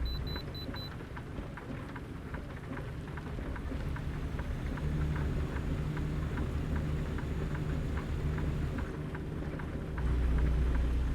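Steady rain and rumbling thunder from a night lightning storm in American Truck Simulator, a continuous broad downpour hiss with low thunder swelling toward the end, constant and fairly loud with no talking.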